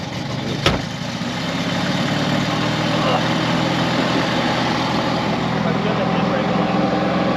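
A Fiat car engine idles steadily in a parking lot, a continuous low rumble running loud and close throughout, with a brief sharp knock near the start and people talking over it.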